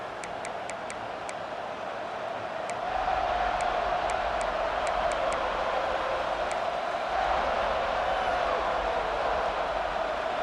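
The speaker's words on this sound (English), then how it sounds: "This crowd ready to make its presence known." A stadium crowd in the College Football 26 video game keeps up a steady, broad roar, swelling louder partway through, with faint repeated ticking clicks over it early on.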